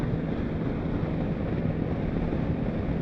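Strong wind roars steadily against the microphone during a motorcycle ride on a highway trip to Kondaveedu fort, a dense, continuous low rumble with no talking.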